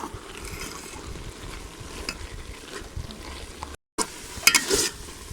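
A spoon slowly stirs milk reducing in a pan for carrot barfi, giving a steady soft bubbling, scraping hiss that breaks off briefly and then returns with a few louder clinks.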